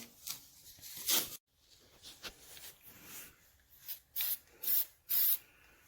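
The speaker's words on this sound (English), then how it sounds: "We'll spray it down." Several sharp hissing spray bursts of cleaner on 1971 Triumph Tiger 650cc motorcycle engine parts, the last few loud and evenly spaced, with softer rubbing and scraping sounds between them.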